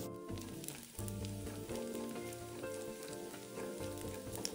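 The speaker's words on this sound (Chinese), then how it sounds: "泡软后的虾米沥干水分，加入一起煸炒至溢出香气" Soaked dried shrimp stir-fry in a wok, a quiet, continuous sizzle with occasional scraping, partly under steady background music.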